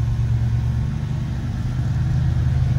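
A 1951 Chevy truck's engine hums steadily and low while the truck drives along a neighborhood street, with a constant near rumble that holds at an even level throughout.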